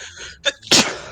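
One sharp, loud human sneeze close up, beginning with a short inhaled catch and ending in a forceful burst, heard at a tabletop role-playing game session.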